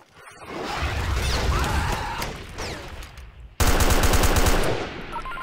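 Rapid bursts of armored-vehicle gunfire in the tank game Armored Warfare, set in a walled swamp area. There is a long, dense volley, then a sharper, louder rattling burst after a brief cut, with no talking over it.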